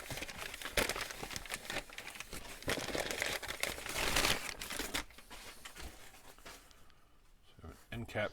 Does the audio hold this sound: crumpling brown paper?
yes